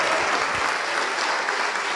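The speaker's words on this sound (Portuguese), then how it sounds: "Vamos aplaudir mais, vamos aplaudir." A church congregation applauds in a dense, steady wash of clapping that stays loud and even for the whole stretch, with no pauses.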